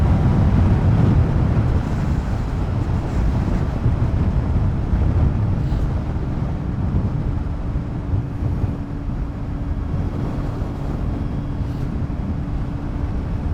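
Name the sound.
wind noise riding a Suzuki GSR750A motorcycle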